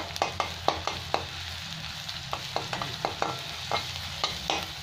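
Ginger-garlic paste frying with onions in a pan, a steady low sizzle under repeated sharp scrapes and clinks of a spatula stirring, close and without talk.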